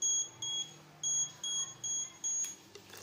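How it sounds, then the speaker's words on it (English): An Arduino water level indicator's buzzer sounds six short, evenly spaced high-pitched beeps, clear against a quiet background. "Beep sound."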